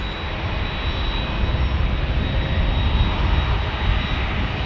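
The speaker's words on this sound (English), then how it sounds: "Got the big 767 engines there going out to El Paso." The jet engines of a DHL Boeing 767 on departure give a loud, steady broadband roar with a faint high whine over it, continuous throughout and without voices.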